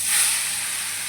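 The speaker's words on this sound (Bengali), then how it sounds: "তেল আমার গরম হয়ে গেছে, এবার কাচকি মাছগুলো ভেজে নেব।" Small kachki fish frying in hot oil give a steady, even hiss of sizzling, close and moderately loud with no voices.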